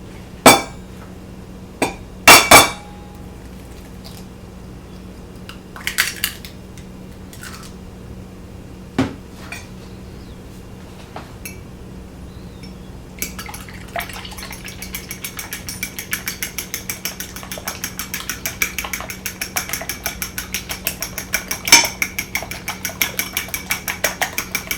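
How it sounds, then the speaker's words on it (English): Eggs are cracked and lightly scrambled in a bowl for French toast. A few sharp isolated taps and knocks come first, then a steady run of quick, light clinks as the mixture is beaten. The sound is close and there is no talking. "Crack your eggs. We're going to give them a light scramble in the bowl."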